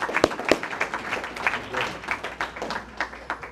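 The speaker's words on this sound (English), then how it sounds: "I want to give a big round of applause to everybody that came out." An audience at an awards ceremony for watershed science and leadership claps in a moderate, uneven patter of applause, with a few sharper claps standing out near the start.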